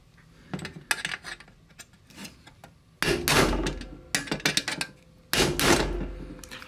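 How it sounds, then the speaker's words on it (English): Sharp metallic strikes ring out in quick clusters, a few lighter taps followed by several hard, resonant blows of a hammer on a punch bending metal, close and loud. "Hammer and punch."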